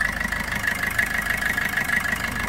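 A 2017 Maruti Suzuki Vitara Brezza VDi(O) diesel engine idles with the bonnet open, giving a steady, close, rhythmic clatter and hum with no talk over it.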